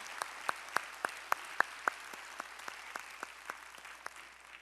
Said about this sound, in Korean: 우리의 찬양을 받으신 주님께 영광의 박수 올리겠습니다.